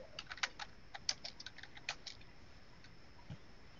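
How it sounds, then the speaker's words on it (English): Someone typing on a computer keyboard, faint irregular clicks of keys in quick clusters, then a pause, heard alone in a quiet room. "I hear somebody typing."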